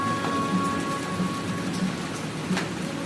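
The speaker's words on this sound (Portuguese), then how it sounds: "Escute o som da chuva caindo na grama e no telhado." Steady rain falls on grass and a roof, a dense, even hiss with occasional faint drips, sustained throughout with no voices.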